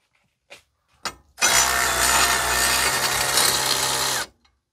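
A steady mechanical whirring drive tightens a steering stabilizer bolt on a Ford Super Duty pickup, running continuously for about three seconds after a couple of brief clicks.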